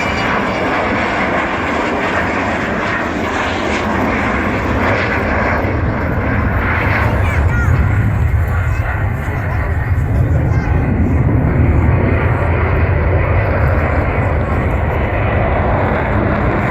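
An Avro Vulcan bomber roars past at close range at an airshow, its undercarriage retracting as it goes by, a loud continuous engine rumble that swells and holds throughout.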